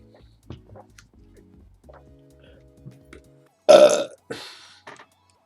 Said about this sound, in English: I'm gonna burp.